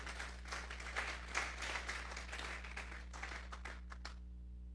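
Congregation clapping during a Sunday church service, a dense patter of many hands that carries on steadily for several seconds before stopping, over a low steady hum.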